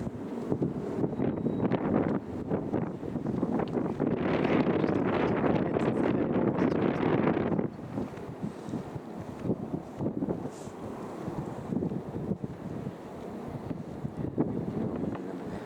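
Strong night wind at Wellington harbour buffets the microphone in heavy gusts, loud at first and then easing to a steadier rushing blow, with no one speaking.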